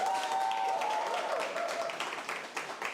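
A church audience breaks into a round of applause, a dense, even crowd clapping that fades slightly toward the end, with a faint voice or tone briefly underneath at the start.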